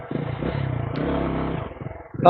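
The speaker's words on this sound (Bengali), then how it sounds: "তো একটা হুইলি ট্রাই করবো" A motorcycle engine revs through a wheelie attempt in short, close bursts that rise and fall, ending in a sharper surge with a little clatter.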